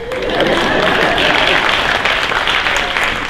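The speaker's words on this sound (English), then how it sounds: "You can applaud if you'd like." Sustained applause from a conference keynote audience, a dense, steady wash of many hands clapping at close range, holding evenly loud for several seconds.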